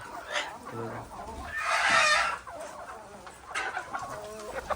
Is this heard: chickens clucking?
yes